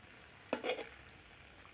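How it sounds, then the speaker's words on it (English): Indomie noodles and potatoes stirred in a pan give one short, faint scrape with a light sizzle, then a quiet frying hiss continues. "ensure you've fully stirred them and they are fully absorbed by the missing noodles"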